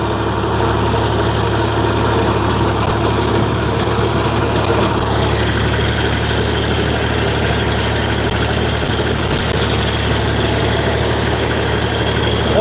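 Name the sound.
farm tractor engine idling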